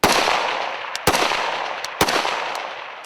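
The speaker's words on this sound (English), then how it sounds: "So go ahead and take a couple rounds." Rifle fired from a standing position by a sniper on a range, with three sharp, loud shots about one second apart, each followed by a decaying echo tail.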